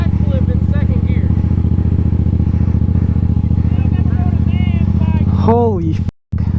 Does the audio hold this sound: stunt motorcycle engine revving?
yes